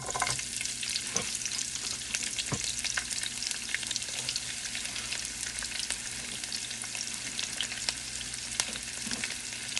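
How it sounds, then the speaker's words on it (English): Onions sautéing in a heated pan while preparing an Italian squash dish produce a continuous close sizzle with scattered crackles and small pops, steady in level throughout, with no one talking. "you don't want the onions to burn, so we just gonna saute these just a little bit."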